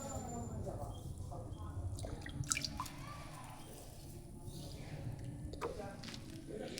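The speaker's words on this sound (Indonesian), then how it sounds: "Nah, kita siram-siram dulu ya." Plants potted in raw rice husk growing medium are watered, with soft dripping, trickling and wet squishing, close and low, while a person talks over it.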